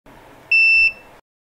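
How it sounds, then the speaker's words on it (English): Multimeter beeping during a continuity test on a drone build, one steady high-pitched tone lasting under half a second, clear and close in a quiet room. "This is a good time to take out a multimeter and check for shorts using continuity test."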